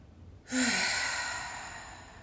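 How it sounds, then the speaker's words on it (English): During a guided breathing meditation, one long, deep breath rushes out close and clear, swelling quickly and then fading slowly over about two seconds. "Exhale. Inhale. Again."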